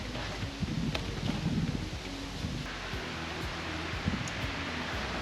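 Wind gusts buffet the microphone outdoors near a 2010 Peterbilt semi with a Cummins ISX engine, a steady low rumbling rush with faint rustling and a few small knocks, with no engine running and nobody speaking.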